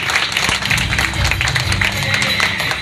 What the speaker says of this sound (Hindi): So come on, give a hand for him also.